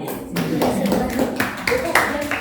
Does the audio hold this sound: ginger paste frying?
no